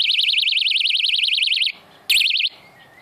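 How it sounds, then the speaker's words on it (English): A piercing, warbling electronic personal panic alarm wails loudly and steadily, cuts out briefly, then blares again in a short final burst. "I've got this alarm. It's like a rape alarm or a panic alarm"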